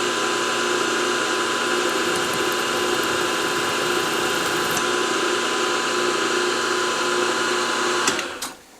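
A center drill spots a hole in metal on a stiff machine, its motor giving a steady whirring hum with faint mechanical clatter that runs evenly for about eight seconds, then winds down and stops.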